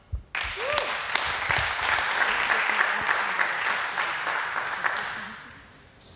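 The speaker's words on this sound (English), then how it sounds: "So a big applause for him." Audience applause at a lightning talk session about cryptographic protocol fuzzing, a dense steady wash of many hands clapping that starts abruptly, holds for several seconds and fades out near the end.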